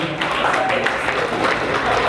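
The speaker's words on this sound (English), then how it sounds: "Another round of applause to President Daniel Nachibinge." An audience at a Rotaract club of Kampala Central event claps in steady, dense applause that continues throughout at a loud level.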